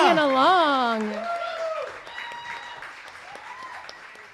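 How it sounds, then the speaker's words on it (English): A concert audience at a songwriters' round claps steadily. A voice sings or speaks over the start, and the crowd keeps clapping as he trails off, the applause fading slightly toward the end. "give the audience a round of applause"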